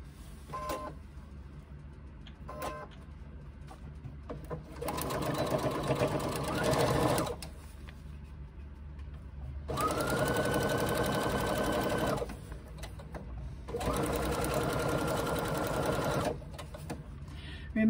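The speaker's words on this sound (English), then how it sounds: "This now gets sewn in properly with this seam." A sewing machine stitches a seam that sews a basted cloth label in place, running in three close, steady bursts of several seconds each, separated by quieter pauses, with a faint whine rising during the middle run.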